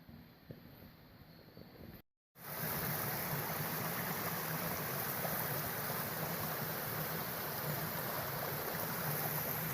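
River water flowing beside a country walking path near Mill Gill Force in Askrigg, Yorkshire, a steady broadband rushing that grows louder after a brief dropout, with some wind buffeting.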